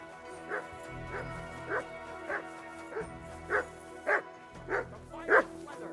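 A dog in the video game Kingdom Come Deliverance 2 gives a run of about nine short yips and whimpers at a steady pace, fairly faint, over low background game ambience.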